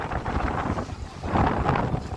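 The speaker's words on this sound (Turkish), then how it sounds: "Şu an rüzgar tam karşıdan geliyor." Strong wind buffets the microphone in continuous loud gusts, roaring and rising slightly toward the end.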